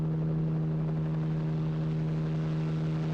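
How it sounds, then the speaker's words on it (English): Helicopter rotor drone in the video game Corpse Party: Blood Drive, a steady loud low hum with a strong pulsing tone, continuous and unchanging throughout. "That's not really a helicopter, is it?"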